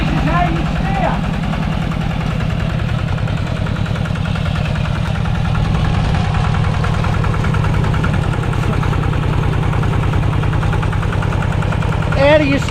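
Engine of a manual-gear vehicle in Laos pulling away: a steady, loud, rhythmic chugging throughout, close by, with a short clatter near the end.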